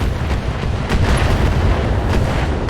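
Turret fire hitting a mech from behind in a Battletech battle, a dense rumbling barrage of heavy booms and impacts, loud and continuous throughout.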